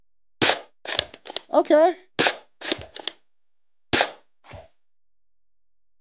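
Shots from a Nexus Pro X air rifle fired at a target: several sharp, close cracks spaced over a few seconds, with someone speaking briefly between them.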